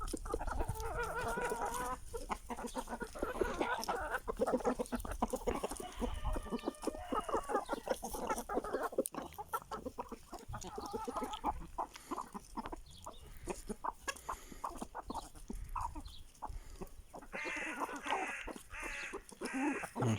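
Aseel chickens clucking steadily at close range, a dense run of short overlapping clucks and calls through the whole stretch, with farmyard background and no talk.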